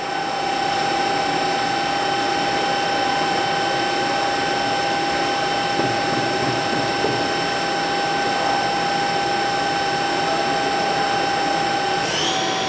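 A Fryer MC-60 vertical machining center spindle hums with a steady high mechanical whine and constant whirring drone, holding a sustained tone as it spins up, loud and close with no talk.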